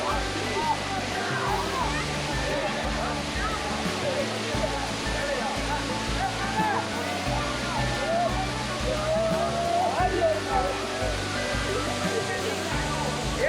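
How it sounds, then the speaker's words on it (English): Gushing water at Jhari Waterfalls roars as a dense, steady broadband rush, loud and continuous, with distant people's voices and shouts mixed faintly into the flow. "The best part is the gushing of the water, the sound."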